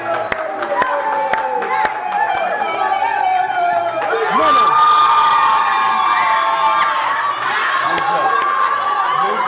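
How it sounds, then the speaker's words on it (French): A wedding blessing crowd cheers and acclaims, loud and close, with raised voices, shouts and sung or called-out tones running throughout, and a few sharp claps early on. "Est-ce qu'on peut faire du bruit? Acclamons."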